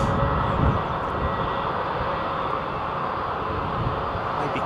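Boeing 787 Dreamliner moving at London Heathrow, a steady, moderately loud engine rumble and roar that holds evenly throughout, with no talk.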